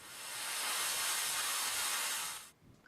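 A DR75C steam cleaner releases steam from its hose in a loud, steady hiss that swells up and holds for about two and a half seconds before cutting off sharply.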